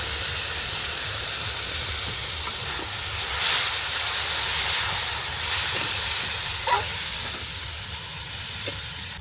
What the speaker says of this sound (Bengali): এবার দিয়ে দেব অল্প পরিমাণ ফুটিয়ে রাখা গরম জল, যাতে মশলাটা একটু